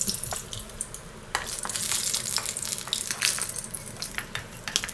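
Ginger and garlic fry in oil in a pan, a soft continuous crackle punctuated by scattered sharper sizzling pops, fairly quiet and without talk.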